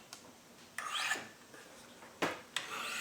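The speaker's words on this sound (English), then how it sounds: "I'm going to run through and hone the knife the last little bit with a micro bevel" A knife edge is honed to a micro bevel on a sharpener, with short rasping strokes that come in a few separate bursts, fairly close and moderately loud, with no talking.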